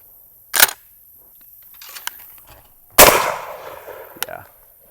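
A shotgun fires at clay targets outdoors, two loud sharp blasts a couple of seconds apart, each trailing off into a brief rolling echo, with faint clicks and handling noise between.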